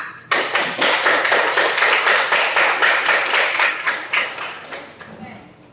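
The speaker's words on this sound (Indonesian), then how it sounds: "Tepuk tangan untuk kelompok 5" Students in a classroom clap for a group, starting abruptly and loud: quick, close hand claps with a loose rhythm that taper off over about five seconds.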